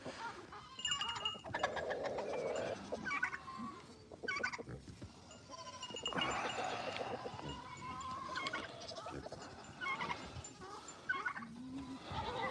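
Several sheep bleat among other farm animals in a busy barnyard, overlapping calls coming and going near and far over constant background noise, with people talking at times.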